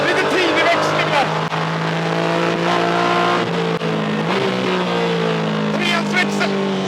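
A Porsche 718 Cayman GT4 is driven hard on a race track: a loud engine rises and drops steadily through gear changes, heard from inside the car, while a voice speaks excitedly over it.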